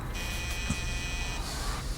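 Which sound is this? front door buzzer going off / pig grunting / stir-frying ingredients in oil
front door buzzer going off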